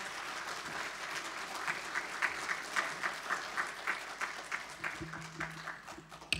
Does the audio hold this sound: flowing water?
no